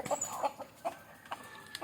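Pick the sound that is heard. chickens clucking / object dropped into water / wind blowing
chickens clucking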